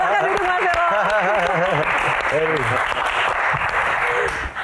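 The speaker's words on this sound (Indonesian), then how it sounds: "Tepuk tangan buat Elo." A live stage audience at a Q&A show applauds loudly and continuously, with a voice speaking over the clapping at first before the steady applause carries on alone.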